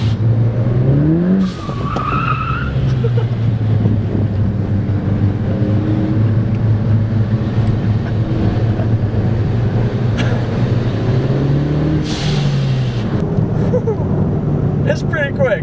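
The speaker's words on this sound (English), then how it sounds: "You can actually hear the turbo come up and it starts to spool." A Ford Focus ST fitted with a big turbo pulls hard from inside the car, its loud engine note rising and falling in pitch as the turbo spools up and a faint whistle rides over the drone.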